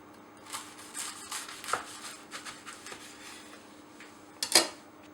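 A knife cuts open a baked Greggs frozen sausage roll, with soft crackling scrapes through flaky pastry and a sharper clink of blade on plate near the end, close and fairly quiet with no talk.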